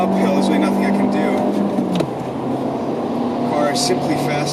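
A diesel car climbs uphill on the Nordschleife, its engine droning at a steady, loud pitch that drops sharply partway through as it shifts gear, then holds a lower, continuous hum with road and wind noise.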